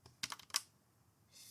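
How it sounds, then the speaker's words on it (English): Several quick keystrokes tapped on a computer keyboard in a quiet room, a short burst of clicks followed by a pause and a faint trailing sound. "if I can type"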